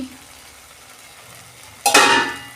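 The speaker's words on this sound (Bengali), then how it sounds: "এই মশলাটা আমি একটু ভালো করে কষাবো, তেল ছেড়ে যাক যাতে।" Katla fish curry spice paste hits hot oil after a quiet stretch, erupting into a loud, close sizzle that holds steady and slowly eases over the final second.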